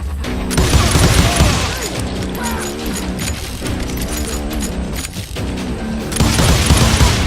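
Gunfire from the Western shooter game Call of Juarez: Gunslinger, aimed at enemies up in the rocks, comes as loud, dense, continuous volleys with heavy booming shots that fill the whole stretch.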